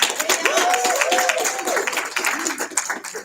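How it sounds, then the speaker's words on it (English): A general-session conference audience gives a round of applause, loud close clapping from many hands filling the room, with a voice speaking over it. "You guys deserve a good round of applause for your members."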